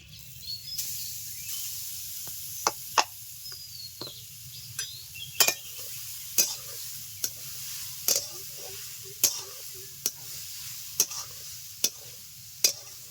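A spatula scrapes and stirs grated coconut in a wok in steady, repeated strokes about once a second, with a soft sizzle underneath and no talking.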